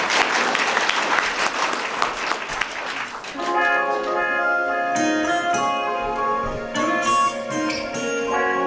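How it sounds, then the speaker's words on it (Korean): Wedding guests in a convention wedding hall applaud warmly for about three seconds, a dense close clapping that gives way to a song's music starting. "큰 박수로 청해 듣겠습니다"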